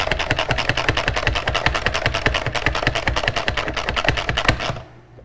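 A manual pump food chopper is pushed repeatedly to mix vegetables with lemon, giving a fast, steady run of close, loud plunging clatters for about five seconds before stopping abruptly.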